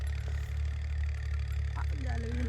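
Tractor running a rotor in a village field, a steady low mechanical drone and hum from mid distance, with a person talking over it.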